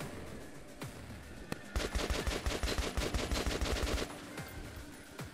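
Gunfire from a sniper rifle in the video game Metro 2033 Redux: after a few isolated cracks, a rapid string of about a dozen sharp shots rattles out in quick succession, with no talk.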